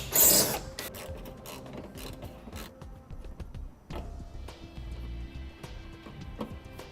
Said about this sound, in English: we can begin our install by removing the hardware on top that holds our fascia in place